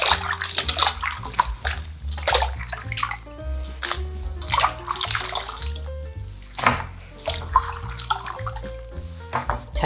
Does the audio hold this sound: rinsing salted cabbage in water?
yes